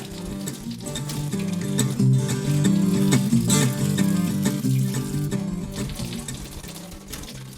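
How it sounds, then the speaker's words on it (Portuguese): Cassava roots rinsed under a running tap, the steady gush of water splashing over them continuing without pause, with a tonal hum underneath throughout. "E agora a gente vai lavar a mandioca"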